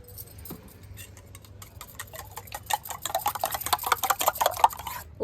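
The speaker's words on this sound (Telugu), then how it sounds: "ఉప్పు కారం వేసేసుకొని ఇది ఎగ్స్ బీట్ చేసుకోవాలన్నమాట" Eggs being beaten with salt and chili powder, a utensil clicking rapidly against the bowl, faint at first and then growing louder and quicker.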